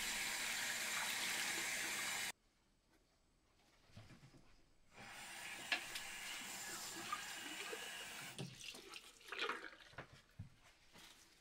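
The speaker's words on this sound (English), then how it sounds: "just rinsing everything off" Water runs from a tap while old multimeter parts are rinsed, a steady faint rush that stops abruptly, then returns with splashing and irregular trickles as the pieces move under the stream.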